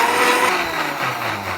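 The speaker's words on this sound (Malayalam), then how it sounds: "നന്നായിട്ട് മിക്സിന്റെ ജാറിൽ ഇട്ടിട്ടുണ്ട് അടിച്ചു കൊടുക്കുക" A mixer grinder blending pineapple lime juice in a jar: a steady, loud motor whir with a churning roar, continuous throughout.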